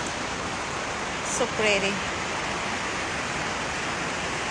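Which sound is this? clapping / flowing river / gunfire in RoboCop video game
flowing river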